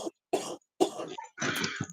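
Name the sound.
coughing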